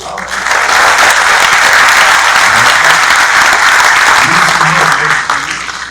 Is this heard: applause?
yes